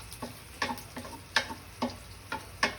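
Shrimp frying in a pan with browned garlic, giving a steady sizzle broken by about six sharp, evenly spaced clicks or taps, close and fairly quiet, with no one speaking.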